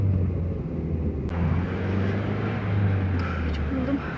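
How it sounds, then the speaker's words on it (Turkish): Steady low engine rumble and road noise inside a moving taxi, continuous and fairly loud with no clear speech. "şimdi taksiye bindik evimize gidiyoruz"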